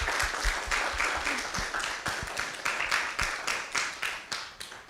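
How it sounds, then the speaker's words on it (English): Applause from a graduation ceremony crowd, a steady wash of many hands clapping with a few sharp individual claps, fairly distant and faint, with no talk over it. "So, round of applause."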